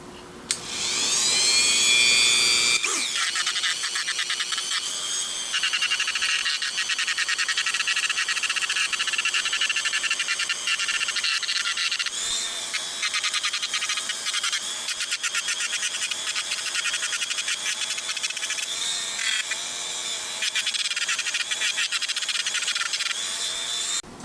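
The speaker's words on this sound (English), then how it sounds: "I'm going to go ahead and grind these down a little bit flatter on both sides" A high-pitched rotary tool whines steadily while grinding down a Glock polymer frame, running nearly continuously with brief dips as the bit is lifted and pressed back against the plastic.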